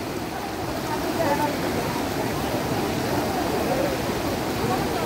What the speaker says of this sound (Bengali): এই যে মাঝখান থেকে ঝর্ণার জলটা বয়ে আসছে, আর ওই জায়গাটা কিন্তু প্রচুর কারেন্ট